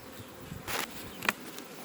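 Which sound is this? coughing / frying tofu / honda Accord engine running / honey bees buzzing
honey bees buzzing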